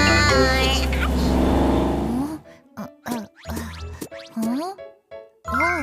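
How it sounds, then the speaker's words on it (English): A loud cartoon-style car engine revs and whirs for about two seconds in a children's alphabet song, then gives way to a voice singing. "C is for car."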